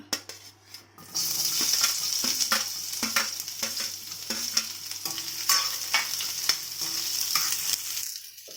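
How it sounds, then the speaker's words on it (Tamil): Onions sauté in oil in a pan for a tomato-free chutney, a steady close sizzle broken by repeated clinks and scrapes of a spoon stirring, with no talking. "இப்போ அதே எண்ணெயில் வெங்காயத்தை போட்டு வதக்கிக்கரலாம்"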